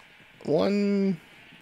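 A single Minecraft sheep gives one clear, drawn-out baa from a white-sheep farm, standing alone over faint background noise.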